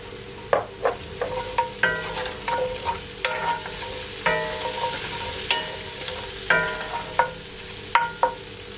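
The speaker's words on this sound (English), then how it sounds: "Then after 15 seconds or so, I'm gonna add my garlic." Garlic sizzles in a hot frying pan, a steady crackling hiss broken by a string of sharp scraping clicks as a utensil stirs the pan, close and clear with no talking.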